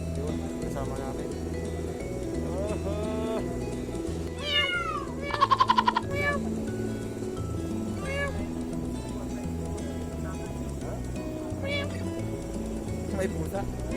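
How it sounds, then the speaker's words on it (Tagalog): A cat meows behind people waiting at a bus stop, a few short mews rising over steady outdoor traffic rumble, with people talking nearby. "May pusa."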